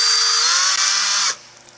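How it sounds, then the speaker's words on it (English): A power drill bores into a rigid Airloy aerogel disc with a loud, steady high-pitched whine that stops abruptly after about a second and a half and leaves quiet room tone. "here I'll demonstrate taking the Airloy disc and a drill"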